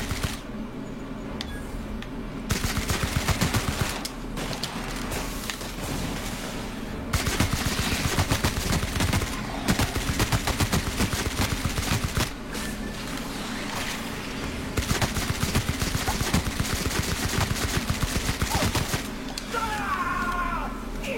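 Upgraded assault rifle firing in a video game, repeated loud bursts of rapid shots separated by short pauses, with game background noise between bursts.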